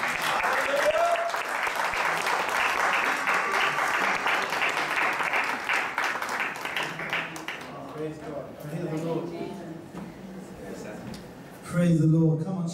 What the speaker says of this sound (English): Come on, church, let's give him a round of applause.